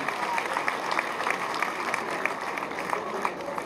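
A university audience at an anniversary excellence day in Bambey, Senegal, applauds a professor: dense, steady clapping fills the whole stretch at a fairly even level, with no pauses.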